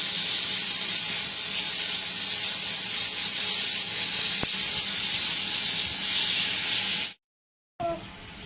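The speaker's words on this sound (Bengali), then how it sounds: "মশলা কষাচ্ছি একটা তেজপাতাও দিয়ে দিচ্ছি" Spices and a bay leaf fry in a pan, giving a loud, steady sizzling hiss that runs unbroken, drops out briefly near the end, then returns.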